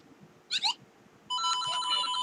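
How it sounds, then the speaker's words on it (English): A short chirpy electronic blip followed by a bright, beeping synthesized jingle from a small LEGO Mario-style toy figure, close and fairly loud over quiet room noise. "They do have different sounds when you put the clothes on."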